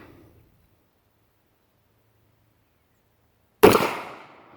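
A single sharp gunshot from a Rock Island 22 TCM pistol at an outdoor range, loud and near with a decaying echo after a long quiet stretch.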